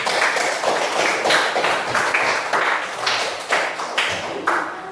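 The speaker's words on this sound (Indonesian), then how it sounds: "Silakan kita beri aplaus untuk kelompok 1" A small classroom group applauds group 1 after their presentation, a handful of hands clapping in uneven, distinct claps for several seconds, close and fairly loud, with no talk over it.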